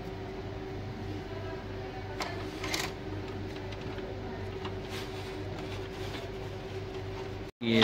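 An HP Deskjet Ink Advantage Ultra printer runs with a steady mechanical hum and a couple of faint clicks as it tries to feed a page, with a brief dropout at the end.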